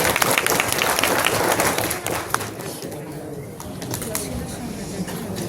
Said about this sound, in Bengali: ওনাদের জন্য জোরে হাত তালি অ্যাপ্রিশিয়েট করুন।